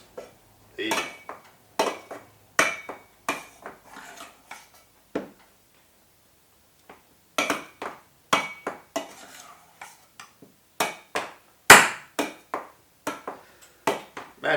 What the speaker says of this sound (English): Drain the water and let's mash the spuds.